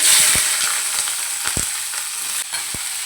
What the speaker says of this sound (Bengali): এখানে ক্যাপসিকাম আর পেঁয়াজ যেগুলো দিয়ে দিয়েছি এগুলো তেলের মধ্যে দিয়ে দেবো